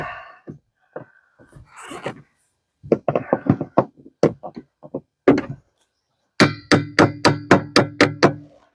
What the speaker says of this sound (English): Use a screwdriver for a hammer. That works all the time.